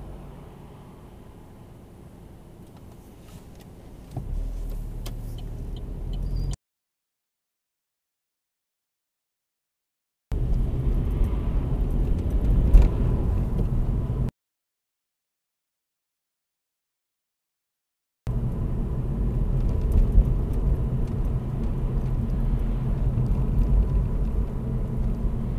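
A car pulls away during a UK driving test on a Northampton route, a low, steady engine rumble that rises slightly as it moves off, broken by several stretches of complete silence.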